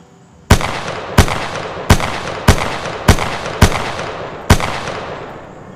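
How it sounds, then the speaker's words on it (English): A P2020 replica pistol fires seven sharp, loud shots down range at an even pace, each crack trailing into a short echo, with no talking. "So now we're gonna just shoot one more time down range."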